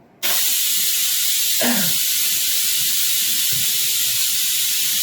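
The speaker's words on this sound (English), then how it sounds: "You can hear that letting off the steam, eh?" A pressure cooker vents its steam in a loud, sudden, continuous hiss that starts abruptly and holds steady and close for several seconds.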